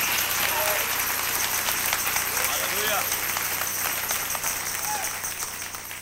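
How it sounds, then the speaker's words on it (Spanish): A church or religious gathering audience applauds for Jesus, steady broadband clapping filling the room for several seconds with faint voices and calls mixed in, fading slightly toward the end. "Dale un aplauso a Jesús para que el mundo crea"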